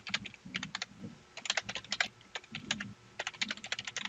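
Rapid, uneven bursts of keystrokes on a computer keyboard as a name is typed into an online bank account application form, close and clear with no talking.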